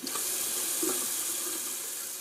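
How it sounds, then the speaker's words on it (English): Cold tap water pours steadily into a sink during a wet shave rinse, a continuous broadband splash with small gurgles, close and alone with no talking. "Just doing a quick cold water rinse here"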